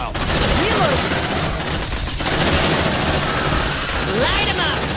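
A sentry gun in Aliens: Dark Descent keeps up loud, continuous rapid fire, a dense steady roar with faint voice fragments mixed in.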